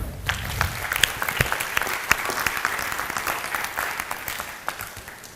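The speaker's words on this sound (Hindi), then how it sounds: "चलिए सभा के लिए जोरदार तालियां।" Loud applause from an assembly gathered at a spiritual study camp in Gujarat, a dense crowd clapping with crisp individual claps standing out, fairly close and steady before easing slightly toward the end.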